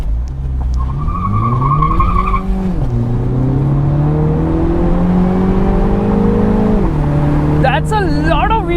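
Car launched hard from standstill with heavy wheel spin on low profile tires: a loud, close engine roar climbing in pitch through several gear-like steps, with tire squeal and skidding noise, and a brief voice near the start.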